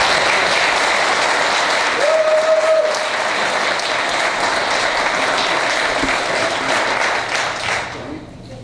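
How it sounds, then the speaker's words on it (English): Big round of audience applause at a local event, dense sustained clapping close by for about eight seconds, with a brief whistle early on, tapering off at the end. "Let's give everyone a big round of applause."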